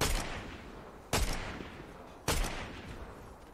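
Three sharp gunshot bursts ring out in a shooting video game, spaced about a second apart, each a loud crack followed by a fading tail with no speech.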